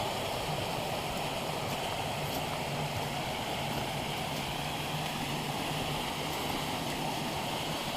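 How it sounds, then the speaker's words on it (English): Rushing creek water on the Big Creek Trail, a steady, dense broadband wash that stays loud and constant throughout with no talk over it. "That rushing water sounds good."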